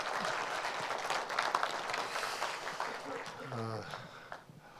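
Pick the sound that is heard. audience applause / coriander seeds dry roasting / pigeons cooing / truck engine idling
audience applause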